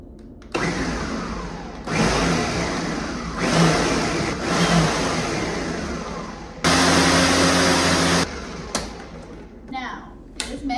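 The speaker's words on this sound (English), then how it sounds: "Now we're going to blend this. I'm going to turn this on and I'm going to pulse." An electric blender pulses cake batter in a home kitchen, with several loud whirring bursts of a couple of seconds each and short gaps between them, the final burst the strongest.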